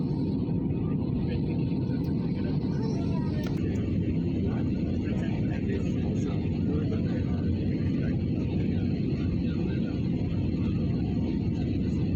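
A passenger airplane cruising above the clouds on a Trivandrum-Bangalore-Delhi flight fills the cabin with a loud, unbroken low engine drone and airflow roar that holds steady throughout.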